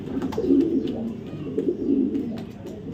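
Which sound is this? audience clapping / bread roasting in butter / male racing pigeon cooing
male racing pigeon cooing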